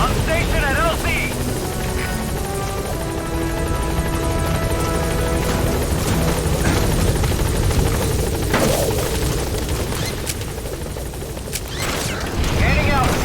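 Helicopter arriving at a landing zone in Metal Gear Solid 5: The Phantom Pain, with a steady rotor and engine drone held at a constant level through the whole stretch, together with game effects and radio-style voices talking over it.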